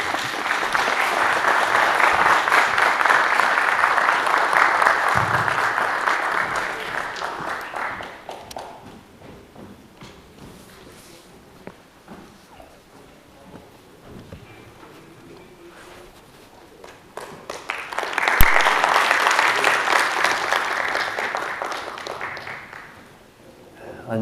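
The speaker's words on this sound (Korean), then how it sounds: "박수로 청하겠습니다." An audience at a special Buddhist lecture for military chaplains breaks into sustained applause to welcome a monk to speak. The clapping fades to a quiet stretch with faint shuffling, then swells again into a second long round.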